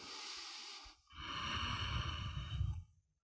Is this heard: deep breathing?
yes